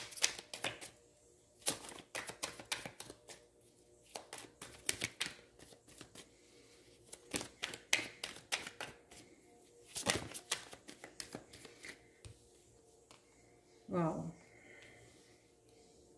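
Tarot cards are shuffled and drawn by hand, producing repeated riffling and snapping bursts in irregular clusters, close and crisp, with a brief voice near the end.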